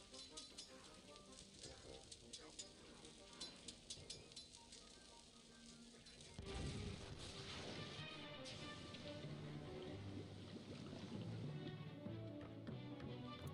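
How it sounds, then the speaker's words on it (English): Cannon firing in the Escape From Monkey Island video game, a sudden loud boom near the midpoint that swells into a dense, crackling rumble of debris and reverberation, following a stretch of busy clattering game effects. "The cannon's going to go off."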